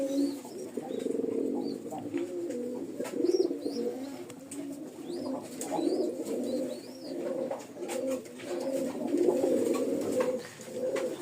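Domestic pigeons kept in a loft coo continuously nearby, layering soft, throaty, rolling calls that overlap in waves, with a few higher chirps above the cooing.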